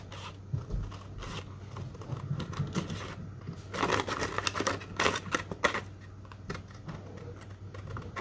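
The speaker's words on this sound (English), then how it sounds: "I'm going to go ahead and take my scissors and I'm going to cut along the polka dot" Scissors snip through paper in short, crisp bursts, several quick cuts in a row, close and fairly quiet with small rustles between.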